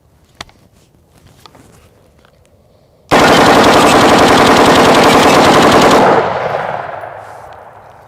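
A rapid, loud burst of 5.56 rifle fire hammers an AR500 steel body armor plate for about three seconds, a dense stream of cracking shots after quiet handling sounds, then echoes fading outdoors.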